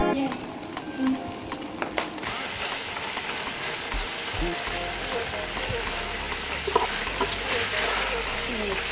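Makemba plantains frying in oil in a Congolese kitchen, a steady dense sizzle running throughout with a few clicks and knocks, and a voice talking over it.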